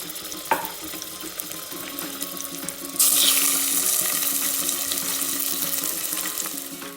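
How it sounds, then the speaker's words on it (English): Marinated chicken pieces hit hot oil in a largish pot, a loud steady sizzle bursting in suddenly after a quiet kitchen start and continuing close and unbroken. "I've heated some oil in a largish container and I'm adding the marinated chicken pieces in here."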